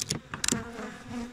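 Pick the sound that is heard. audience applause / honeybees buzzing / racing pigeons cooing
honeybees buzzing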